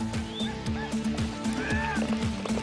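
Novice racehorses gallop in a rehearsal of an Alaman Bayga nomadic horse race, a steady drumming of hooves under crowd noise and a voice speaking over it.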